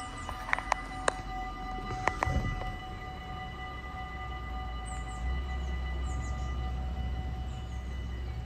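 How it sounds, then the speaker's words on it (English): A train arrives with rumbling rail noise that rises steadily, accompanied by sustained tonal squeals or horn-like tones and several sharp clanks early on, heard from a moderate distance without speech. "Look at that, the train comes for us."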